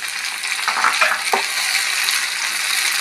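Green peas with chopped tomato and dried red chilies frying in a pan, a loud steady close sizzle with a brief burst of stirring scrapes early on, no talk.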